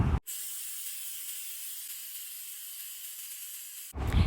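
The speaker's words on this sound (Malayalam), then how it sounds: "ഇനി നമുക്ക് ആ വെയിറ്റ് ഒന്ന് പൊക്കി കൊടുത്ത് അതിൻ്റെ ഫുൾ ആവിയും കളയാം." Lifting the weight on a pressure cooker cooking Kerala-style avial lets out a loud, steady hiss of steam that lasts about four seconds and cuts off abruptly.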